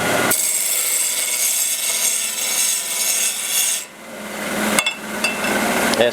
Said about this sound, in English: I'll show you how this sander trims it up nice.